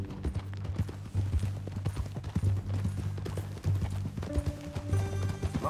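Horse hooves clip-clopping in Red Dead Redemption 2, a steady walking rhythm of hoofbeats over ambient game sound, moderately close.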